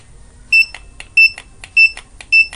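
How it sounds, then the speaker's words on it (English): A handheld barcode scanner reading barcodes on a Debian Linux computer gives four short, loud, evenly spaced electronic beeps, each a crisp double-tone chirp, in a quiet room. "if you can hear the beep sound, that's the rate of speed that this is able to pick up"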